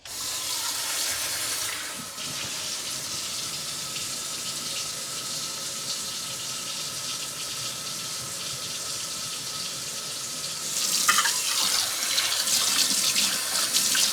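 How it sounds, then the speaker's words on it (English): Water streams steadily from a tap into a cooking pot, a continuous rushing splash that briefly changes pitch and grows louder near the end. "Get this 3 cups of water in."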